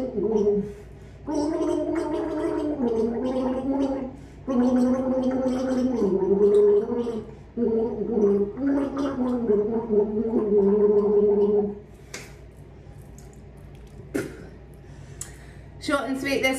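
A person sings a melody while gargling water, producing a loud, bubbly, warbling vocal tone in sustained phrases with brief pauses, ending in quieter gurgles and splashes.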